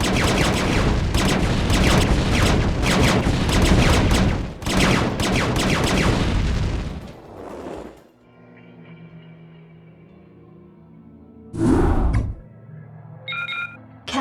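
StarCraft: Brood War Terran units open fire: dense, loud bursts of gunfire and explosions for about seven seconds. The barrage cuts to a quiet hum, followed by a sharp blast and a couple of short electronic beeps.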